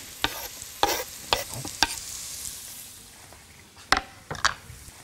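Pepperoni frying in a pan is stirred with several sharp scraping strokes over a steady close sizzle, with irregular utensil knocks against the pan and no talking.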